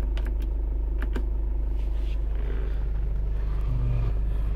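A 2008 Kia Sportage idles with a low, steady engine rumble, close and even throughout, with a few faint clicks over it and no talking.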